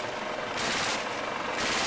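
A burst of machine-gun fire from a helicopter over open water near pirate boats, a dense continuous rattle blended with loud rotor and engine noise, distant and sustained.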